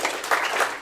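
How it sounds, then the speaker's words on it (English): A short burst of steady clapping from a workshop audience after a startup founder's talk, dense and even, with no voices over it. "hopefully we'll give him a round of applause"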